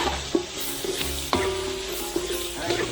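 Onions dropped into a hot frying pan with mushrooms nearby, a loud close sizzle with stirring clatter and scraping over a steady frying hiss.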